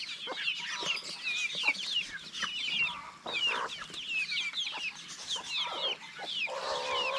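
Pet roosters and hens cluck and chatter constantly near the listener, with overlapping clucks and squawks that form a busy, continuous flock sound without any voices.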